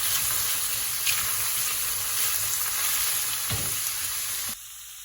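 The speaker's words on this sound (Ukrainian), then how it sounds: "другі грибочки я роблю на оцій сковорідці" Steady crackling sizzle of mushrooms frying in a pan, continuous and close, with a faint scrape partway through before it suddenly drops quieter.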